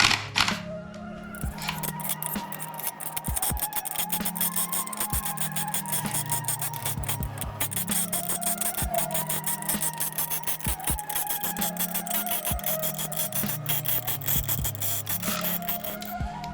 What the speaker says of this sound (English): put on the impact gun, and just run these guys in just a little bit at a time